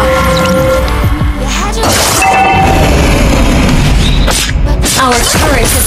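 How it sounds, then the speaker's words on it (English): A turret is destroyed in the mobile game Mobile Legends, giving a loud crashing boom with shattering debris. It sits within busy, continuous game effects and music. "Our turret has been destroyed!"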